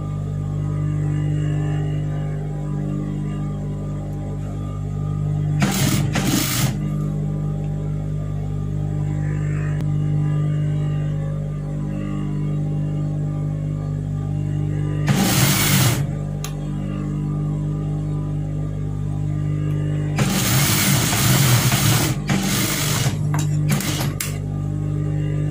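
Sewing machine stitching the front of a blouse, heard as three loud bursts of rapid whirring stitching over a steady motor hum, with quiet gaps between runs and no talking.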